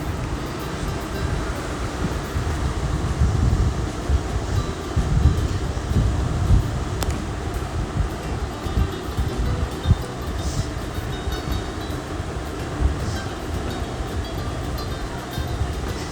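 An electric juicer machine runs steadily while processing whole uncut lemons, producing a loud, continuous motor whir with a rough low-end rumble throughout, and no speech over it.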